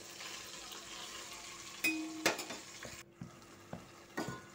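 Marinated chicken leg pieces fry in ghee with chopped onions, a soft continuous sizzle punctuated by a few bright metallic clinks of a utensil against the pot, no speech.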